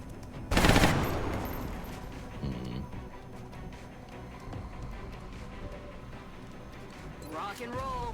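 Gunfire bursts in the turn-based strategy game XCOM: Enemy Unknown: a loud, sharp volley near the start that decays into rumbling echoes, with players chatting over and after it.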